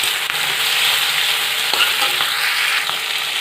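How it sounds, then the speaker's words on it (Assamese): Vegetables fry steadily in a pan seasoned with salt and turmeric, giving a continuous close sizzle and crackle with a few sharper pops, with no voices over it. "এইখিনি অলপ টাইম ভাজি লওঁ ভেজিটেবলখিনি"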